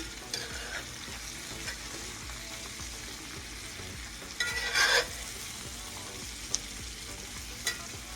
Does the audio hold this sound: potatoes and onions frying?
yes